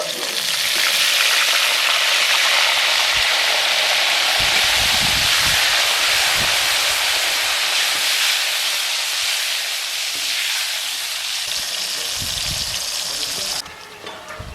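Raw banana slices sizzle loudly in hot oil over medium heat as homemade banana chips fry, with salt-and-turmeric water added. A dense, continuous hiss and crackle stays close and steady throughout and eases slightly near the end.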